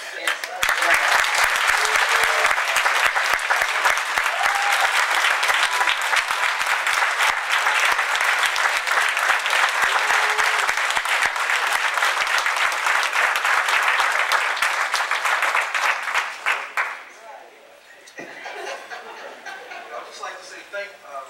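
An audience at a community human relations awards ceremony applauds an honoree, a loud, full round of clapping that holds steady for about sixteen seconds before fading, with someone speaking briefly afterward.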